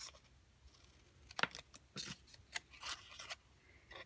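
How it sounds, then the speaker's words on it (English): Cutter Bee scissors snipping through paper, cutting a folded sheet in half, giving a few quiet, crisp snips and slicing rasps spaced irregularly over a faint room background, with no talking. "cut those right in half using my Cutter Bee scissors"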